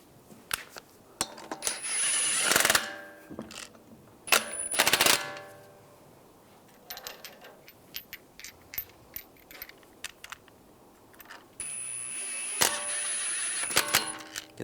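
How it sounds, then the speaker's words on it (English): Lug bolts being threaded onto a wheel of a 2013-2016 Dodge Dart, with bursts of sharp metallic ratcheting and clicking, several spaced runs close by, no talking. "Take the lug bolts, get those started."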